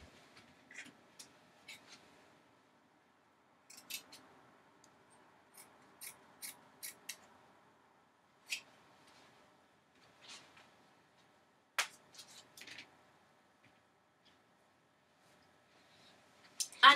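Scissors snip repeatedly through pink socks, a series of sharp, crisp cuts spaced irregularly with quiet gaps between, close and fairly soft.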